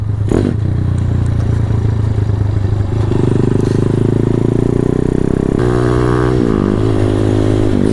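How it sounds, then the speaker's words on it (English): A custom trike with a 212cc engine on a CT-70 frame runs through a roundabout, its small engine droning loud and close with steady rattling and a pitch shift partway as it eases and picks up again. "Alright, so this thing definitely likes straight lines a lot more than it likes corners."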